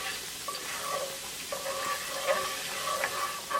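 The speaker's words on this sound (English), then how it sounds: "Now we're going to add ginger also. Cook them like 20 seconds until the raw garlicky flavor is gone." Ginger and garlic fry in a pan for a lamb meatball pasta, with a soft continuous sizzle under intermittent scraping clinks of a utensil stirring, close and moderately quiet.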